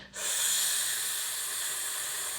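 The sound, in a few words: voice imitating leaking water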